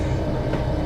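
Train running in the Trainz rail simulator, a brief loud, steady rolling rumble of wheels on track with no voices.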